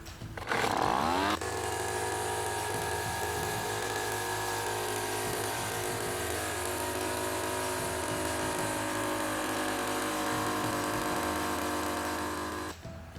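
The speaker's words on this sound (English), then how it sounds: "We get to use power tools." A power tool whirs loudly and steadily for several seconds after a brief starting burst, then cuts off near the end.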